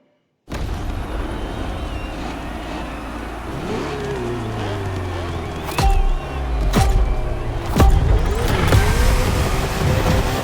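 A Ferrari and a Red Bull race car on a circuit in The Crew Motorfest, their engines droning and revving loudly, with gear-shift surges and sharp bursts near the middle and toward the end.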